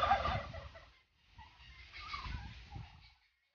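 Turkeys gobble on a farm kept alongside ducks and fish ponds, a faint rattling burst followed after a brief pause by a longer, quieter run of calls.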